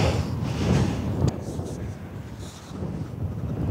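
Wind buffeting a microphone on an exposed hilltop at Pendle at sunset, a continuous loud low roar with gusty swells and one brief knock.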